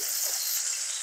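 Vegetables fry in a pan just after a pinch of turmeric goes in, giving a continuous bright hiss of hot oil, close and even throughout with no voices.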